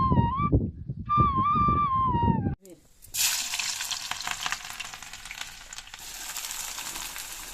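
Bottle gourd vegetables hit a hot kadhai over a wood-fired chulha and burst into a loud, steady sizzle that holds for several seconds, right after a brief stretch of melodic voice or music.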